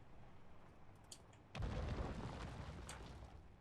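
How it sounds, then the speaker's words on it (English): An explosion in the Space Engineers video game hits as a sudden loud boom that swells into a sustained rumbling roar, following a quieter stretch of low background hum. "That sounded like an explosion."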